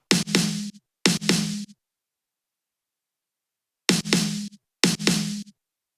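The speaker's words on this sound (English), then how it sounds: "To emphasize the groove of the leads, we added this snare." Four punchy electronic snare hits with a bright, noisy crack and short tonal body, played as two pairs separated by a long silence.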